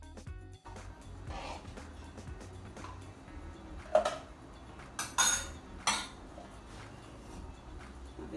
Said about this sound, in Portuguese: Vamos misturar a porção do iogurte com um pouquinho desse leite quente.